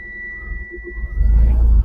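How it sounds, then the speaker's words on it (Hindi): A 2024 TATA Marcopolo Star 40-seat bus sounds a steady warning beep while the engine cranks, then a deep diesel rumble swells up loud and close as it catches. "अभी मैं गाड़ी को स्टार्ट करता हूँ"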